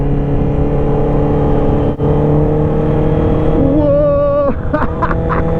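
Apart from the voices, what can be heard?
Honda CB650R four-cylinder motorcycle engine riding with full exhaust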